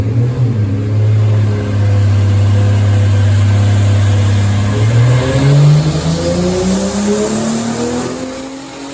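A turbocharged Toyota Supra making about 730 wheel horsepower, revving hard during a dyno run at roughly 28 pounds of boost: a loud, close engine drone that holds steady, then sweeps upward as the revs climb, with no talking.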